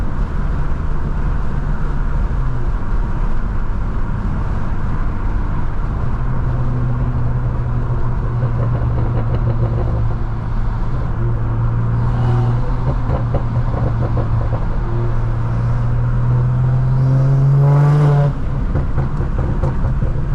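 A stage 2 tuned BMW M340i with a downpipe drones loudly and steadily from inside the car, the engine and exhaust tone rising gradually and climbing sharply near the end as it revs.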